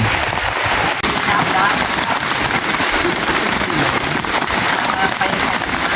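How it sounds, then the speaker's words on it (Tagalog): Heavy rain pours down in a dense, hissing roar, drumming hard on a nearby hut roof without letup, in Lian, Batangas. "Ang lakas po ng ulan."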